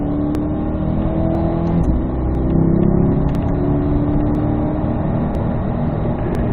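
Corvette at a racetrack driving school accelerating hard out of a corner, a loud, sustained engine roar climbing in pitch, recorded close with steady wind and road noise and no talk.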